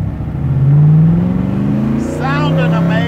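A 1965 Shelby Daytona engine revving and driving past, a loud close rising drone that eases off and then climbs again, with a voice briefly heard toward the end.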